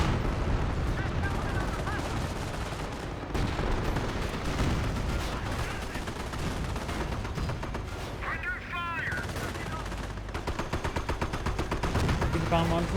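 Tank and gun fire in the Company of Heroes video game, a dense loud barrage of rapid gunfire bursts and heavy booms layered over a voice speaking, with a quick machine-gun rattle near the end.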